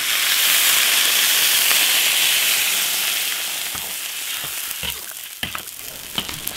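Pickled vegetables and pork sizzle in a hot iron wok, first as a loud steady hiss, then it quietens and scattered clanks and scraping of stirring follow.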